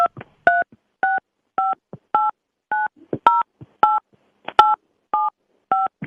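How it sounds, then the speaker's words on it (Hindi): Phone keypad tones as a 16-digit debit card number is entered on a mobile phone, a crisp sequence of short, evenly spaced beeps of varying pitch separated by brief silences, with faint clicks in between. "आप अपने मोबाइल फोन से अपना डेबिट कार्ड का 16 अंक का जो नंबर"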